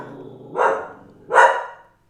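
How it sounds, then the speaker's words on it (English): A dog barks twice, about a second apart: two short, fairly strong barks against a quiet room with no speech. "There's the dog."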